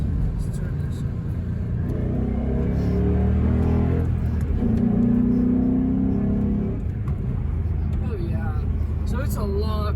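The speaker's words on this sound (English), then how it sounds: "I'm going to give it a little bit of gas and see how it sounds" A 2005 Ford Mustang GT with a Pypes Violator exhaust accelerates in second gear, giving a loud, continuous low rumble that swells and settles, with voices talking over it.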